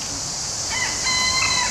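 Rooster crowing in a botanical garden, a bright, faint call rising over a steady outdoor hiss, with no one talking.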